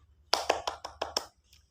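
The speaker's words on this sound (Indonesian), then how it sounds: "Beri apresiasi tepuk tangan untuk Aulia." Six sharp hand claps from a classroom of fourth-grade students in an Indonesian school, evenly spaced in a quick rhythm, fairly close, followed by quiet.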